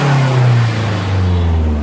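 Mazdaspeed6 engine idling steadily at about 900 rpm with a catless downpipe and otherwise stock exhaust, a close, continuous low drone that holds even throughout.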